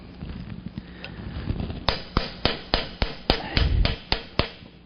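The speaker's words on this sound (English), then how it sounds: "Doing this kind of chisel work with a fine chisel takes time" A light hammer strikes a fine chisel cutting hot steel for a woven steel handle, with sharp metallic blows in a steady rhythm roughly every quarter second after some quieter tapping, loud and close.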